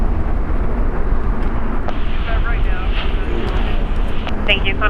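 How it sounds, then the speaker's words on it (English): An American Airlines jet airliner departs from the south side of LAX, its engines producing a loud, steady roar under radio chatter from air traffic control. "Departing here on the south side is American Airlines, flight 1052 going to Chicago."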